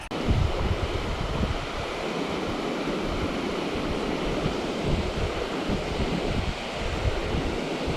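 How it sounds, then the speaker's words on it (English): Strong wind buffets the microphone beside a brook trout stream, a steady loud roar with gusty rumbling throughout and running water mixed underneath. "Got a really strong wind."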